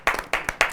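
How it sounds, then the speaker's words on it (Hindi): At a Hindi comic poetry gathering, a few sharp, close hand claps ring out in quick succession, three distinct bursts in under a second. "पुनः एक बार तालियां बजा दीजिए"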